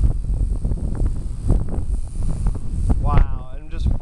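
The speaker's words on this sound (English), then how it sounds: "I can't even describe how strong this wind is right now." Strong outdoor wind buffets the microphone in loud, continuous low rumbling gusts, with a brief whistling tone near the end.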